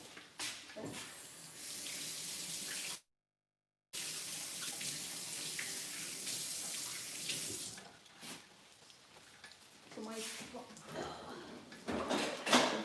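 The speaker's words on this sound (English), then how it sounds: "So let me first wash my hands." Hands being washed under a running kitchen tap while cooking tuna cutlets, a steady broadband rush of water that cuts out briefly and returns, with faint clatter near the end.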